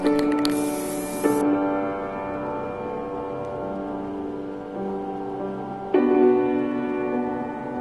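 An aerosol can of mirror chrome spray paint hisses in short bursts at close range, each spray laying down a light coat, with a hollow rattling ring between the sprays.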